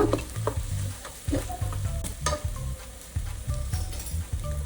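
Eggs fry with masala powders, garam masala and biryani powder, in a pan for egg biryani, a continuous sizzle overlaid by rhythmic scraping and tapping of a spatula in bursts, close and fairly loud, with no voices.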